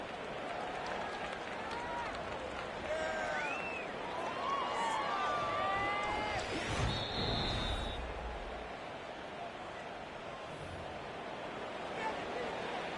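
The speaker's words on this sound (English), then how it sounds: "Plenty of shouts from this crowd as they watch the replay." A football stadium crowd at a Steelers game roars in a steady, dense wash of shouting and cheering, with scattered individual yells rising above the sustained din for the whole stretch.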